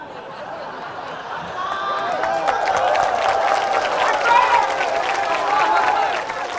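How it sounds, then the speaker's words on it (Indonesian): A sermon audience in Mentok, Bangka Belitung, bursts into applause mixed with chuckles and chatter, starting softer and swelling into a sustained round of clapping with crowd voices underneath. "Kenapa kalian tepuk tangan?"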